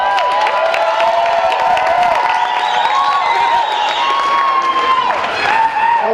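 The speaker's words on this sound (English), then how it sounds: "keep on clapping for your best man" A wedding reception crowd cheers and applauds loudly as the best man takes the microphone, whoops and shouting over continuous clapping, with music or tones ringing through the din.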